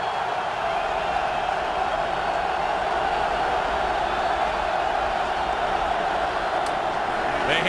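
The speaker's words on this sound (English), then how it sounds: "This crowd is alive." A steady roar from a football stadium crowd at a Packers at Eagles wildcard playoff game, dense and continuous throughout, with a commentator talking over it.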